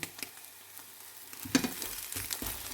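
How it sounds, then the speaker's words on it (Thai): King oyster mushrooms fry with egg in a pan, giving a soft, steady sizzle broken by a few brief louder crackles and stirring scrapes, with no voices. "นี่คือเห็ดขวดทอด กับ ไข่"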